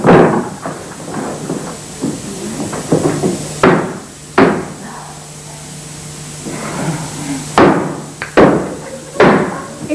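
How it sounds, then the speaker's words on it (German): Hammer blows strike to seal a lid shut in a stage-play setting, coming in loud, sharp bursts, first a quick series and then spaced single hits over a steady background hum. "Dann hämmern Sie doch endlich den Deckel wieder dicht."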